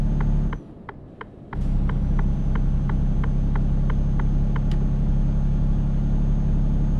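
A Mercedes Actros MP4 truck in Euro Truck Simulator 2 drives on the A2 motorway with a loud, steady low engine drone. The drone cuts out briefly near the start, and a regular ticking repeats over it.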